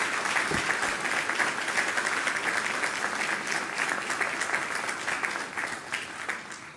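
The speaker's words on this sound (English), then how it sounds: "Give our MDO, Teal, a huge round of applause" Sustained applause from an audience at a graduation ceremony for fire and EMS cadets, steady and dense throughout with no voices on top.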